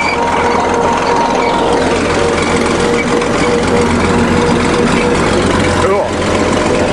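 A 1953 International bulldozer engine runs steadily as the machine moves in reverse, a loud, continuous low rumble with a constant drone throughout and no pauses.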